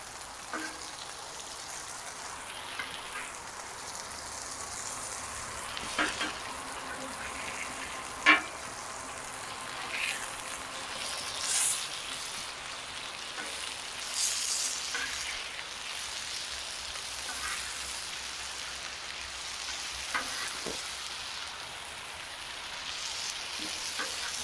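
Jalapeño slider patties sizzle steadily on a hot cooking surface as they finish, a continuous close crackle with occasional sharper pops and spatters, no talking.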